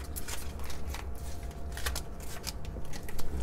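Tarot cards are gathered up and shuffled together on a table, a close, soft run of papery slaps and riffling that lasts a few seconds.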